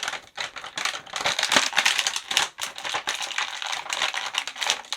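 Close, rapid crisp snips and crinkling rattles of scissors cutting through plastic packaging, in quick uneven bursts with no voices.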